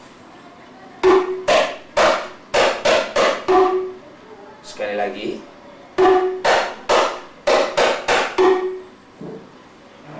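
Rebana frame drums playing the basic ketipung 1 stroke pattern, sharp close hand strikes in a quick repeating phrase, with a brief rattly keprak-like figure between two rounds, loud and clear; a voice speaks briefly near the start.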